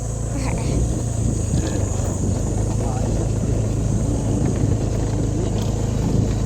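A motorcycle engine droning steadily while riding a bumpy mountain road, loud and close, with voices talking over it.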